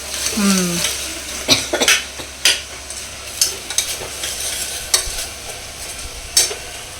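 Onions fry in a pan while a spoon stirs them, a soft steady sizzle broken by repeated scraping and clinking strokes; a voice speaks briefly near the start.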